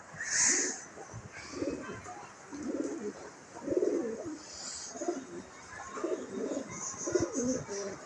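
Pet pigeons coo in low, repeated throaty phrases at a steady pace, close by, with a few higher bird chirps over them.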